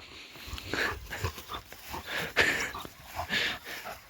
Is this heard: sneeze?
no